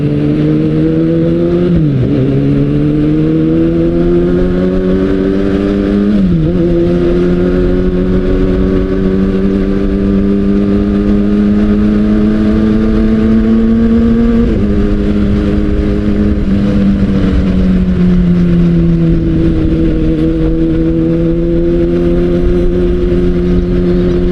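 Kawasaki Ninja ZX-6R motorcycle riding on an open road, steady loud engine drone with rising pitch through the gears and brief dips at each shift, continuous with wind noise.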